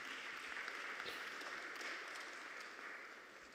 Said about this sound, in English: Can we give these both the ladies a round of applause